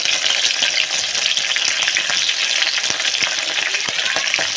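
Cardamom, cloves and finely chopped chillies fry hard in hot oil in a pan, a loud, dense, continuous sizzle with faint crackles throughout.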